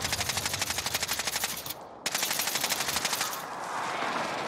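Rapid automatic gunfire from behind in Call of Duty Warzone rattles as a fast, regular stream of loud shots, broken by a brief pause near two seconds before the firing resumes and fades into noisy wash.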